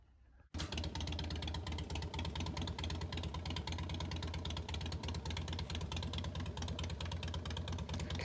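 A motorcycle engine starts and settles into a steady, loud idle close by at a toy hauler with a 14-foot two-piece loading ramp, running continuously without pause.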